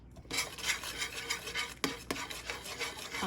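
A spoon scrapes and rasps steadily around a pan while creamed cabbage is stirred for a keto dish, with a couple of sharper knocks partway through; close and continuous, no voices.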